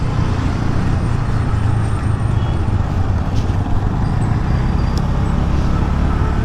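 Road traffic surrounds a Honda Dio scooter on a city ride, a steady loud roar of engines and wind rumble with faint distant vehicle sounds, and no clear talking.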